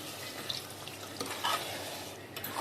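Tamarind water poured into a brinjal gravy in a pan, a soft liquid splashing and sizzling at low level with small bursts, no talking.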